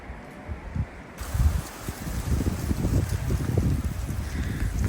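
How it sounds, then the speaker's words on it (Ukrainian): Strong gusts of wind roar and buffet on a mountain meadow slope, swelling and rustling through leaves, growing steadier and louder toward the end. "Сильний вітер,"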